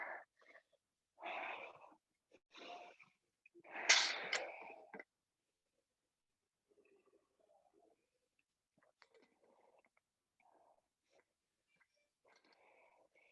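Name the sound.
heavy breathing after a yoga warm-up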